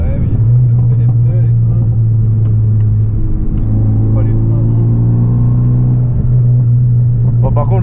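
Renault Megane 3 RS driving a slow, gentle lap at the Chambley track, its engine a loud steady low drone with gradual rises in pitch, heard from inside the car under a voice.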